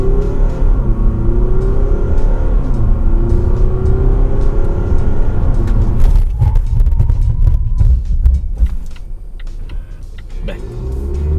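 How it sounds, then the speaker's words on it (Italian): Volvo XC90 Mild Hybrid SUV on a wet road, its engine steadily pulling away from a standstill, then a sharp emergency stop with tyre and brake noise, heard from inside the cabin. "Adesso proviamo a fare un'accelerazione da fermo e una frenata di emergenza."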